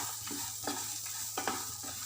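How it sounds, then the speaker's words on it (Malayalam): Chicken for dragon chicken, salted and being sauteed in a pan, sizzles quietly beneath a few rhythmic scraping stirs of a spatula, close up with no talking. "ഇനി നന്നായിട്ടൊന്ന് വഴറ്റി കൊടുക്കാം."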